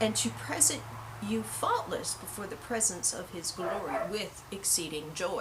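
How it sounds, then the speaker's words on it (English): Dogs bark and yip in short bursts somewhere near a man reading scripture aloud, the barks scattered under and between his steady speech. "Sorry about the dogs."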